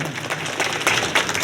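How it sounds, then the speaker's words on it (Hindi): Applause and clapping from a crowd at a Kshatriya talent award ceremony in Lalsot, a steady dense patter of many hands lasting throughout, fairly loud and close, with a few stronger bursts. "जोरदार तालियों से आपका स्वागत, अभिनंदन।"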